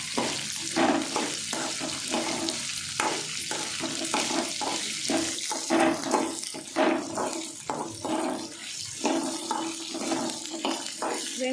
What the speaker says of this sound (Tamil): வெங்காயம் ஆட் பண்ணி நல்லா ஃப்ரை பண்ணி விட்டுக்கலாம்.